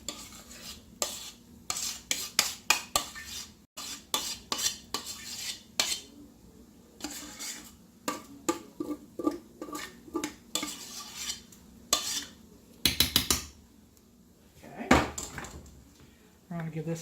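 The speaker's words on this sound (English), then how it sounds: "I'm going to give this a stir to make sure that all of the noodles are coated." A utensil scrapes and clinks against a dish while stirring macaroni shells coated in a cheese mixture, in repeated close, sharp strokes with brief pauses, a voice speaking now and then.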